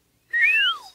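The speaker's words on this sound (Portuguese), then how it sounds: "Isso está parecendo um assobio." A cartoon pig lets out one clear whistle, a bright tone that rises and then glides down, lasting under a second against silence.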